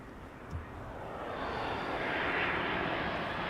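An Embraer 175 airliner arriving at Amsterdam Schiphol Airport, its broadband jet roar swelling steadily from moderate to loud as it approaches, heard from a distance outdoors.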